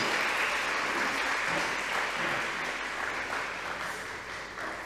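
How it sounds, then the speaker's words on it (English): Audience applause at a high school 140th anniversary celebration ceremony, a dense, even wash of clapping from a large crowd, sustained and slowly easing over several seconds. "So that deserves another round of applause."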